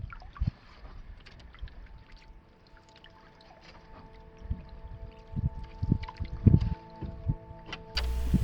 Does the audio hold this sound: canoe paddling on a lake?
yes